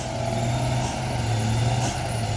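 A trailer truck pulls away up a slippery incline, its engine a steady loud drone with low rumbling throughout and faint hissing bursts like air brakes twice.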